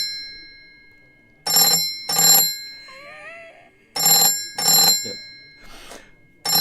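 A telephone bell driven by a ringer dynamotor rings in the UK double-ring cadence, two loud brr-brr bursts, a pause, then another pair, heard up close with faint tones between.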